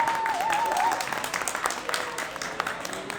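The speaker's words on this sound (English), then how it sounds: "Can we get a round of applause?" Audience applause at a fireside-chat event: steady, fairly loud clapping from a seated crowd runs throughout, with a brief whistle or whoop near the start.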